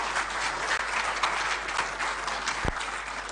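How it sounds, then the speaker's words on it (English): An audience applauds at a state visit of the Asantehene to President John Mahama, steady crowd clapping at moderate level, with a brief thump near the end. "A round of applause is well deserving."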